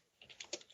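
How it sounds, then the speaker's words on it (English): Brief, faint run of keyboard clicks, several quick keystrokes typed on a computer during a Skype call, close and alone. "I'm typing to you on Skype."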